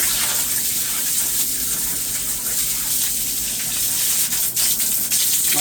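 Water hose spraying down a basement sump pit, a steady close rushing and splashing gush that runs the whole time without a break.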